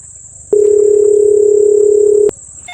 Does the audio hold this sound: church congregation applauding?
no